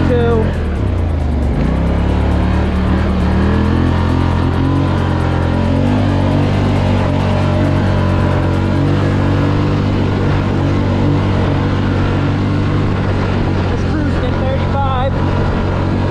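A 2020 Can-Am Scrambler XP 1000S ATV riding through mud, its engine a loud, continuous close-up roar with surging revs over wind noise, and a voice talks over it.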